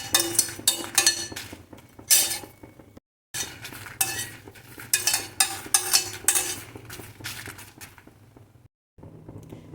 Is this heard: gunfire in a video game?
no